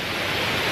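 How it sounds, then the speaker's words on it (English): A waterfall at a scenic park near Pattaya, Thailand, roars as a steady, close, broadband rush of falling water with no pauses and no voices. "Look at that for a waterfall."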